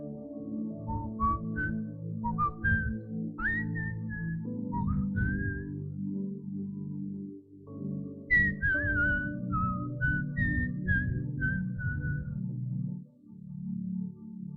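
A preacher whistles in imitation of an eerie whistle heard at sea during a violent storm: a series of wavering, sliding whistled notes in two phrases, loud and close over a steady low rumbling background.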